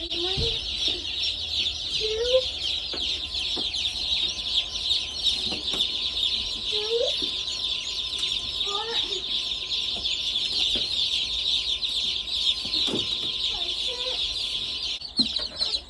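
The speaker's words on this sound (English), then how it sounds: "So we have 90 chicks in here." Crowd of baby chicks in a brooder with about ninety birds, a dense continuous high peeping chorus with occasional louder individual chirps, steady and close throughout.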